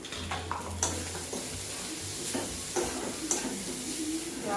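Soft, continuous sizzling in a pan with intermittent stirring scrapes and light clinks, close by and fairly quiet, no one speaking.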